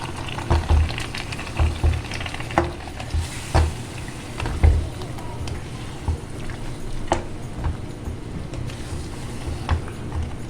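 Marinated chicken sizzles and bubbles in a handi, a continuous frying hiss punctuated by irregular low thumps and clatters from stirring, with no talking heard.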